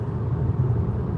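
Low, steady road rumble inside a Deepal S05 rolling on soft Continental VikingContact 8 winter tires, a muffled continuous hum with no voices.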